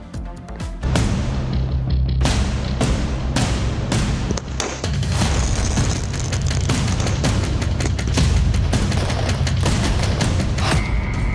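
Firecrackers burst in a rapid, irregular barrage of loud sharp bangs and booms, some close and punchy, merging into a dense continuous crackle during festival celebrations, with no talking.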